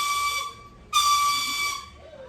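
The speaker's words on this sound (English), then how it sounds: "may want to come here and hear 2 loud whistles" Two loud train whistles sound as a passenger train prepares to depart the station at a boysenberry festival, a first blast, a brief gap, then a second longer one that fades, with no talk over them.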